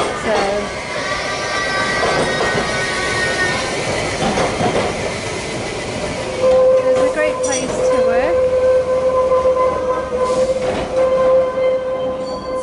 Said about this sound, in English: Oh, now you can hear the train as well.